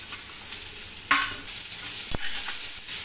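Green chilli and chopped onion sizzle and fry in a pan for a morning breakfast dish, with steady close frying crackle and a scrape of stirring partway through.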